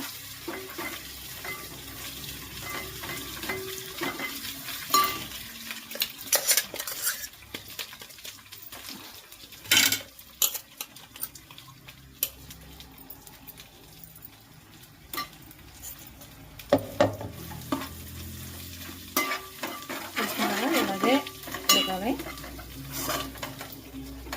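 Gongura leaves frying over low heat in a pan for gongura pachadi, with steady sizzling and occasional scrapes and clinks of a spoon stirring against the pan, fairly close and moderately loud.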